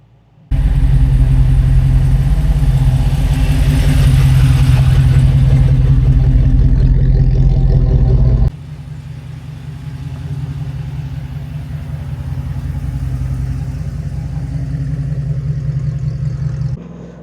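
A Jeep JK fitted with an America's Most Wanted 4x4 392 Hemi V8 rumbles loudly and steadily close by on a test drive, then settles to a lower, even drone partway through.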